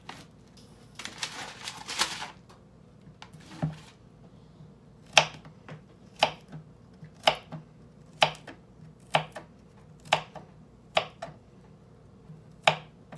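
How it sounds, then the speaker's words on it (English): A knife chops garlic on a board for Jamaican chicken soup, giving crisp, sharp knocks about one per second after a busier opening flurry, close and clear against a quiet background. "Garlic, we're just gonna cut them like that."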